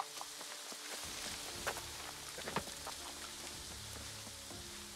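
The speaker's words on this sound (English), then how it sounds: "It's rainy and it's sunny." Rain in the New World video game: a faint, steady patter and hiss of rainfall with scattered louder drops, continuous and without talk.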